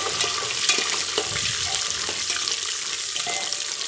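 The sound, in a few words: peanuts frying in the pan for khichdi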